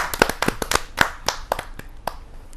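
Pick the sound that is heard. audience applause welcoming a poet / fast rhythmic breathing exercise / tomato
audience applause welcoming a poet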